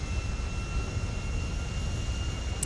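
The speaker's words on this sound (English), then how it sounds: "Is the sound of the airplane too loud?" Steady airplane engine drone inside GTA 5, a continuous loud broadband roar with a faint high whine running throughout, heard alone with no talk.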